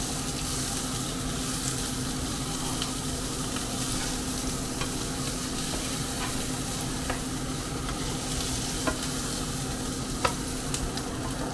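Chopped peppers and garlic fry in a pan for pork stroganoff, giving a steady, quiet sizzle with occasional light clinks and scrapes from stirring.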